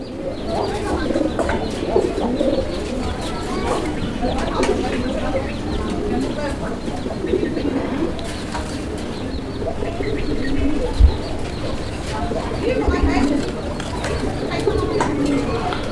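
Pigeons coo steadily in a busy coop at a pigeon market, low rolling calls overlapping throughout, with someone talking nearby and faint chirps in the background.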